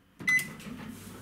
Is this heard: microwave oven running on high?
yes